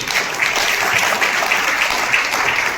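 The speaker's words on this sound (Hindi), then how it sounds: "जोरदार तालियां" Steady applause from an audience at a Hindi-language marketing seminar, dense and even throughout with no talk over it.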